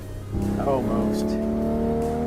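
A car simulator game's engine holding a steady drone in fifth gear, a constant mid-pitched hum with a brief shift in tone early on, loud and continuous throughout.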